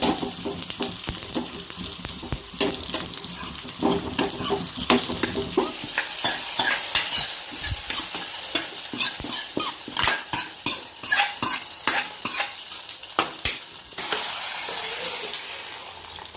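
Tomato mixture for Andhra-style tomato dal frying in a pan while a spoon stirs it, with steady sizzling and repeated sharp scrapes and clinks of the utensil against the pan, close and fairly loud.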